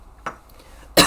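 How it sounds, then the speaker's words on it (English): A short burst of a person's hacking cough, two rough bursts spaced under a second apart, the second louder and close, with no speech. "my usual little coughing, like smoker's coughing grumble, has been replaced with an actual hacking cough"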